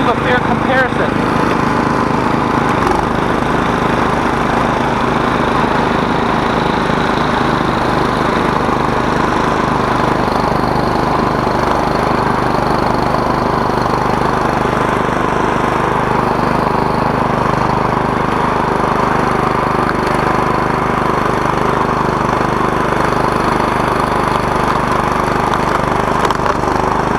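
Two snow blowers, an Ariens Deluxe 28 two-stage and a 359cc Cub Cadet three-stage, running steadily at full throttle with a loud, continuous engine drone that holds level throughout, with some voices faintly in the background.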